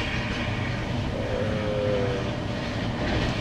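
Steady rumbling of a passenger train rolling along rails toward Kars, eastern Turkey, a continuous low roar with faint metallic squeal, no voices.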